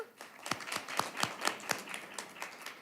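A small group claps in a loose, uneven rhythm of distinct sharp hand claps, moderately close, with no talking, at a school board meeting.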